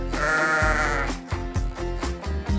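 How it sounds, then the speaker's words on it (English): A sheep bleats loudly at the start over a rhythmic children's tune, one long quavering bleat followed by continuing beat-driven music. "It's a sheep."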